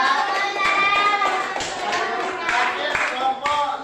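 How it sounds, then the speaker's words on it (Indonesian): A classroom group applauds after a presentation, scattered hand claps tapping through a room where people and children keep talking over and around them. "kasih tepuk tangan"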